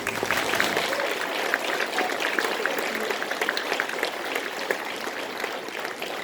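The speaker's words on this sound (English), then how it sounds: "Round of applause." An audience at a keynote address claps for board members standing up, a dense, steady patter of many hands that holds at an even level for several seconds with no voices.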